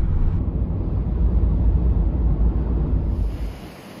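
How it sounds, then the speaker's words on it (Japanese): Surf washing onto a sandy beach in Hokkaido, a broad steady roar of waves with wind buffeting the microphone, loud throughout and easing off near the end, with no voices. "北海道のね砂浜にやってきたんですが"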